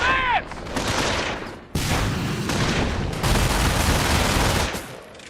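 Bursts of gunfire and explosions in the World War II strategy game Company of Heroes, with rapid machine-gun rattles layered over loud booms that continue without a break.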